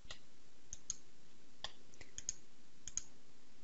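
Sharp, quiet mouse clicks on a computer in structural engineering software, spaced irregularly in a near-silent room, a few single clicks and one quick double click.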